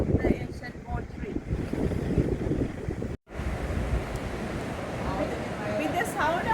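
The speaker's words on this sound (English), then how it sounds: "With the sound of the sea behind, it's very difficult to make me audible" Sea waves and strong wind at the shore roar continuously, with heavy microphone wind buffeting throughout, broken by one brief dropout midway, as someone talks over the noise.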